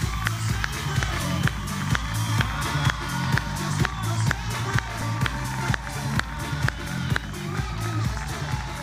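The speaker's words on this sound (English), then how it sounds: "Ladies and gentlemen, give Pat Gwynn a big round of applause." Audience applause and cheering from a crowd at a keynote presentation event, sustained and fairly loud, mixed with a steady, rhythmic musical beat.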